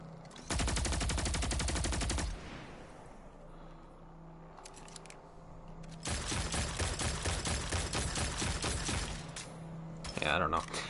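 Rapid sidearm fire from the Insurmountable in Destiny 2, heard as two loud bursts of quick repeated shots, one short and one longer, with a quieter pause between them.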